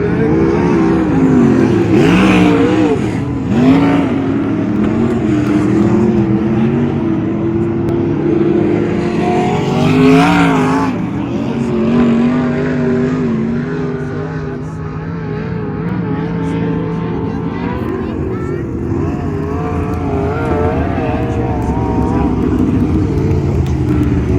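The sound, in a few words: sprint cars racing at Arizona Speedway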